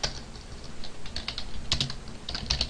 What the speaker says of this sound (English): Let's go ahead and type private class